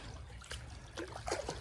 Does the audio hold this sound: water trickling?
yes